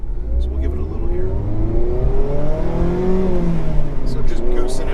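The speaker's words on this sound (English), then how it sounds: "Really happy with the overall sound of this exhaust" A Mazda MX-5 Miata of the ND generation, fitted with a Remark exhaust, revs steadily. Its rising and falling engine note is loud and close, and a voice talks faintly over it.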